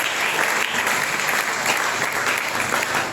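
A church congregation applauds, steady dense clapping from many hands filling the space at a constant loud level throughout.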